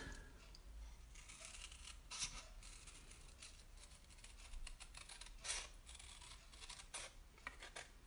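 Scissors snipping around a paper card topper during cardmaking, a quiet close run of small irregular crisp cuts.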